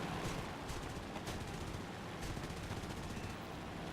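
Aircraft machine guns strafing a P-36 in War Thunder, a faint, steady rattle of rapid fire under constant engine and wind noise, with a few sharper cracks scattered through.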